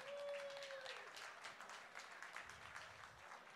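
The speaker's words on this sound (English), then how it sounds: "let's give them all a round of applause" Audience applause at the World Coffee Tasters Championship in Sweden, 2015, a steady faint patter of clapping from a crowd, with a brief tonal whistle at the start.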